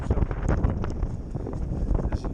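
Wind buffets the microphone of a cyclist riding exposed country roads in cold, strong crosswind, a constant gusting roar with rumbling thumps throughout.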